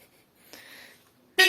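A single short, loud honk of a car horn bursts in at the end after near quiet.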